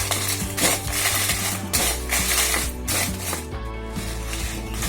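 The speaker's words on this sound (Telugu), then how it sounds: "చూడండి, ఇట్లా దోరగా వేయించుకోవాలి మిరపకాయల్ని." Red chillies fry in a spoonful of oil in a pan over a low flame, a steady soft sizzle with scattered clinks and scraping stirs, close and moderately quiet, with no talk.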